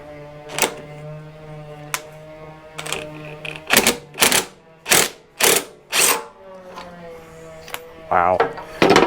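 A puller working a seized pump off a pressure washer gives a series of loud, sharp mechanical clanks and ratcheting knocks, several in quick succession around the middle, with a steady low hum underneath.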